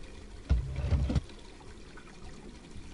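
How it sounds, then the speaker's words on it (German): Hot water runs into a bathroom basin or tub in the video game Black Mirror 2, a short close pour and splash lasting under a second before it falls quiet. "Ich würde sagen, wir machen mal heißes Wasser an."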